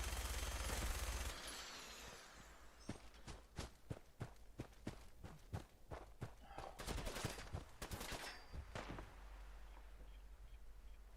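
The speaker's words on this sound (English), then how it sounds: "let's get out that high shredding minigun" A minigun in the game Fallout 4 fires a rapid, even series of sharp bursts after a rumbling start, then a denser clatter of shots, moderately loud against background game noise.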